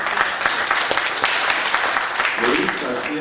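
A steady wash of audience applause from a crowd, dense and even clapping throughout, loud and fairly close.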